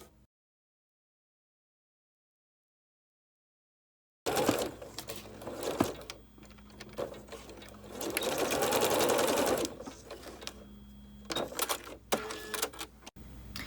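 A sewing machine stitches a seam on a knit dress, running in close, rattling bursts after a silent opening, speeding up and pausing several times with small clicks between runs.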